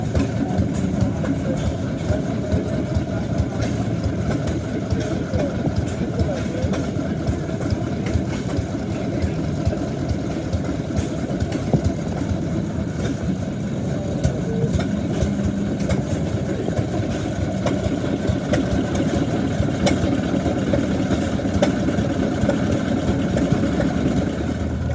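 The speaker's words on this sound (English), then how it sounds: "Making ice cream here with a hit and miss motor." Hit and miss engine driving an ice cream maker at an outdoor antique machinery show, a steady low chugging drone that runs through the whole clip amid crowd noise and faint background talk.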